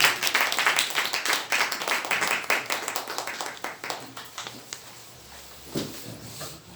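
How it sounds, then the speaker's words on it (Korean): A church congregation claps to welcome a guest, a burst of sharp handclaps that is loud at first and thins out into scattered claps over several seconds. "박수하겠습니다."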